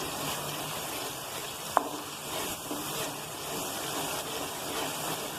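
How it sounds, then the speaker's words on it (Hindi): Tomatoes cook in achar gosht pickle masala in a pan with a steady, close sizzle and hiss. A single faint click comes partway through. "थोड़ी देर के लिए इस मसाले में पका लूँगी टमाटरों को।"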